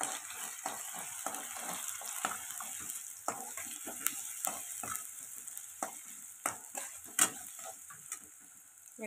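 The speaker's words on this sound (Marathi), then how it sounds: "असं आता तेल तापलंय, कांदा टाकून घेते मी त्याच्यात" Onion sizzling in hot oil in a pan, with a steady frying hiss and a series of clicking, scraping spatula strokes at irregular intervals, fairly quiet and close.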